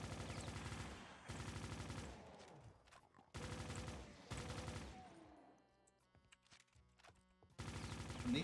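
SMG gunfire in Brutal Doom II, loud rapid automatic bursts in several long strings separated by short pauses, with quieter game sounds in the gaps.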